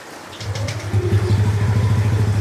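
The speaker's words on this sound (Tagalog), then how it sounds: "Testing natin kung kamusta yung andar ng ating NMAX" Yamaha NMAX scooter engine running with a new iridium spark plug, a steady close idle that settles into an even pulsing rhythm after a quiet start, with no talk over it.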